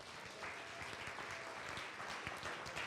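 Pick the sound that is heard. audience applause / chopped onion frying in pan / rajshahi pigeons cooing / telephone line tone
audience applause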